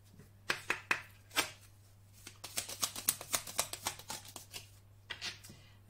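A small deck of oracle cards being shuffled by hand, close crisp riffles and flicks, a few separate flaps, then a quick rapid run, then a couple more.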